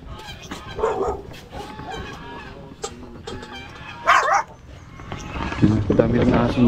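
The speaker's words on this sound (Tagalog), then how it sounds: "Dami rin na aso nakakawala dito." Several dogs bark and whimper at a rural home, mixed with clucking chickens and people talking nearby, the barks coming in uneven bursts at moderate distance.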